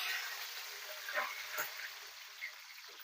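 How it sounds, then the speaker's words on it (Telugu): Fenugreek seeds frying in hot oil, with onions and green chillies added, for a traditional Andhra fish curry, giving a steady soft sizzle with a few small pops and stirring clicks. "మెంతులు కాస్త ఫ్రై అయ్యాక ఉల్లిపాయలు, పచ్చిమిరపకాయలు వేసుకుందామండి"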